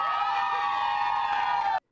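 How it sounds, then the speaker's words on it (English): A girls' soccer team, the Archbishop Mitty Monarchs, celebrating as section champions, lets out a loud, sustained group cheer of high shouts and whoops that holds steady for almost two seconds, then cuts off abruptly. "Girls, take us out with a cheer."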